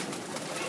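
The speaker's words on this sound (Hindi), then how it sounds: "असल में ना ये कबूतर क्रीज में होने की वजह से" Domestic pigeons on a home rooftop produce a soft, continuous cooing murmur, fairly close, with a faint voice in the background.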